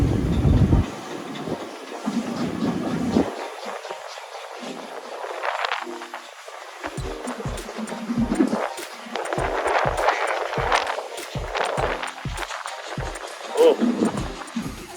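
A steam railway train in London passes with rhythmic clickety-clack of wheels over rail joints, moderately loud, while people talk nearby throughout.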